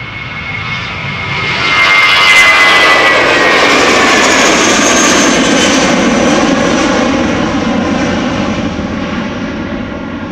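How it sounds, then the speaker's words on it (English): A Vueling Airbus A320 jet departs Amsterdam Schiphol, its engines swelling into a loud, sustained close-up roar that holds steady for the whole stretch, with no voices. "Vueling, flight 8379, an A320 going to Santiago."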